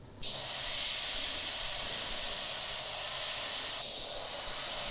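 An airbrush spraying paint onto a colouring book with the air button held down, a steady close hiss that starts abruptly and continues unbroken for several seconds.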